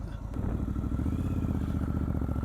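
A Triumph Scrambler 1200 XE motorcycle pulls away, its engine giving a steady, close, low rumbling drone that builds slightly and holds, with no talking over it.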